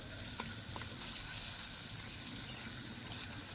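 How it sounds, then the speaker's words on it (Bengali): Stuffed potatoes for Bengali aloo dum fry in a pan, a soft, steady sizzle with faint stirring scrapes, heard alone. "ভেজে নেব এগুলো একটু ভালো করে ভেজে নিতে হবে"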